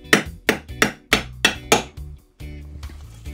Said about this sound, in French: Avec un maillet tout doucement, on tape si nécessaire.